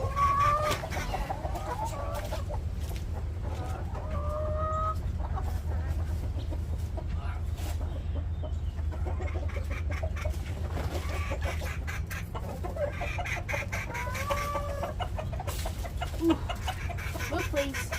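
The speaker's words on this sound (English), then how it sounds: "I'll give you guys a bird eye view of the chickens" Backyard chickens clucking and calling repeatedly in a steady farmyard chorus, moderately close, with a low background rumble and occasional louder squawks throughout.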